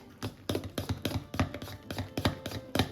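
Softened cream cheese dessert mixture being stirred and mixed in a bowl, making rapid, close, rhythmic knocks and scrapes of the utensil against the bowl.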